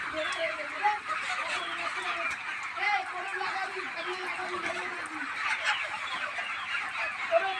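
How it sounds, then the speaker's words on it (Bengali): Several chickens cluck and murmur continuously nearby, with soft pecking and rustling and a voice speaking over them. "মুরগির খাবার মারছে দেখুন"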